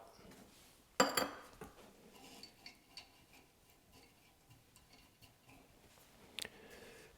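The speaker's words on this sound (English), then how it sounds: "we're just going to take a handful of pellets and just add them directly to the burn pot" A handful of wood pellets drops into a pellet stove's burn pot with one sharp, close rattling clatter, followed by faint light ticks and a second short clink a few seconds later.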